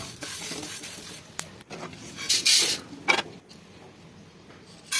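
Pearl millet (kambu) is dry-roasted in a pan and stirred, making soft, continuous scraping and rustling of grains against metal, with a few louder scrapes and knocks in the middle.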